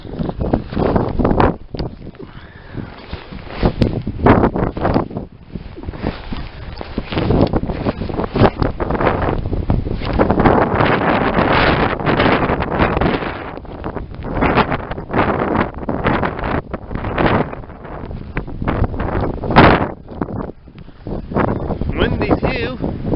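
Strong blizzard wind buffets the microphone in gusting roars during deep snow on a bad road, loud and continuous with brief lulls.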